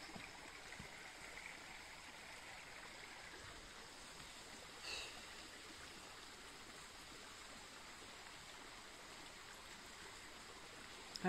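A small mountain stream on the Răcădău valley trail near Brașov, flowing as a faint, steady, even babble of water heard from the bank, continuous and undisturbed.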